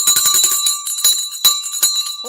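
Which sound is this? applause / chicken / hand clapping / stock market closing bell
stock market closing bell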